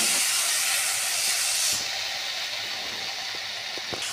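Potato pieces frying with spice paste in a hot pan, giving a loud, steady sizzling hiss that stays constant throughout with no voices.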